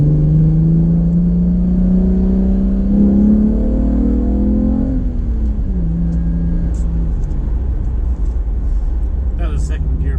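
A car on Firehawk Indy 500 tires pulls hard in second gear on a cool, wet street. The loud engine drone climbs steadily in pitch, then falls away as the driver eases off, with constant road and tire rumble beneath.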